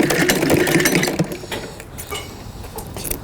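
A sewing machine whirs loudly for about a second as a patchwork quilt maker in Osh sews, then gives way to quieter rustling and light mechanical ticks.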